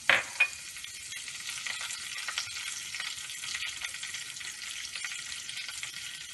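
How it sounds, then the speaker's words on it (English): Curry leaves hit hot oil with a sharp burst of popping, then settle into a steady, soft crackling sizzle that carries on evenly, no voices. "We'll add the curry patta."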